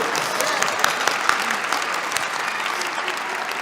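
Audience at a celebration event with True Parents bursts into dense, sustained applause, a loud continuous roar of many hands clapping with scattered sharper claps throughout.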